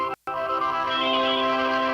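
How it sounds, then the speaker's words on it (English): A telephone line rings on an outgoing call to a novelty She-Hulk hotline, a loud steady electronic ring tone that starts after a brief silent break and holds, close and clear. "They made a phone line for She-Hulk, and this was it."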